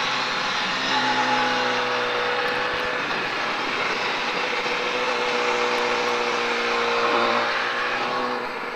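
A Triumph Daytona 675 motorcycle accelerating hard on the La Ferté-Gaucher race track, a loud, steady engine roar with rising and falling tones running throughout.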